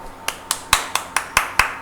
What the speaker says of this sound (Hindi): अगर ताली बजाई, ध्वनि निकली ना